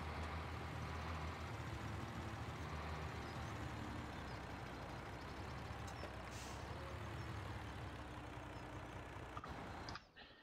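A farm truck idles and moves into a parking spot, a steady droning engine rumble that holds evenly throughout, with a faint hiss of air near the end before the sound cuts off.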